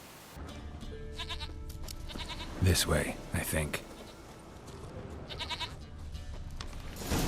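A goat bleats in The Witcher 3 video game, several short wavering cries rising over game ambience while someone speaks briefly.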